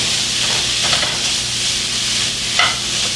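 Ground turkey sizzles steadily in a pan, a constant close frying hiss with a couple of soft scraping stirs.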